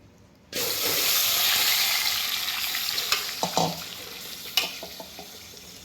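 Oil sizzles loudly in a pot as turmeric and salt are stirred in with a spoon, beginning abruptly and holding a steady hiss. A few sharp metallic clinks of the spoon against the pot sound near the middle, with no talking.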